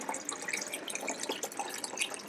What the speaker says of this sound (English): pour back the chemistry